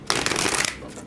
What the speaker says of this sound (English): We're only going to do 3 shuffles with this deck